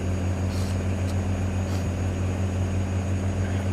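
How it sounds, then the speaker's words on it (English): Radial aircraft engines idle in Microsoft Flight Simulator 2020, a steady droning rumble with a strong low hum that holds without a break for the whole stretch, loud and close, with no one speaking. "roll the window down so that we can hear those beautiful radial engines"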